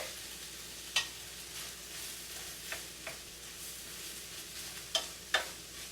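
Beetroot and corn being stirred together in a bowl, a quiet steady scraping with a few sharp clinks of the utensil against the bowl, near and alone.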